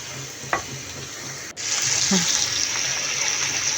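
Sliced onions with salt sizzling in a hot pan for a chicken curry, a steady frying hiss that grows louder after a sharp knock partway through, with a few faint clinks and stirring sounds.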